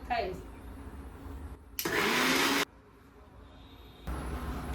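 A kitchen blender pureeing fresh spinach runs in one loud, steady burst of about a second in the middle, with quieter kitchen noise before and after.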